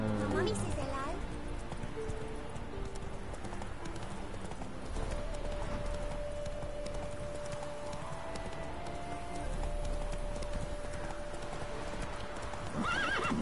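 Horse hooves clip-clop steadily along in The Witcher 3, with an occasional whinny, under continuous game music and ambience.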